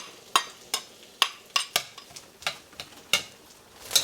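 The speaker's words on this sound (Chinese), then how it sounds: "锅里加一些油，把瑶柱和海米放进来爆香。" Dried scallops and dried shrimp fry in hot oil in a wok, giving a faint sizzle under a series of sharp, irregular pops and scraping stir taps close by.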